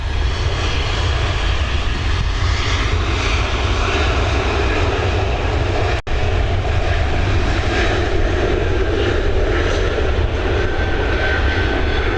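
A jet airliner taking off from Dublin Airport runway 28L roars in a dense, continuous engine rumble, loud and steady throughout with a brief dropout midway.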